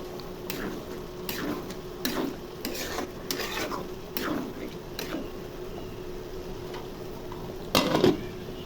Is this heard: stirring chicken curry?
yes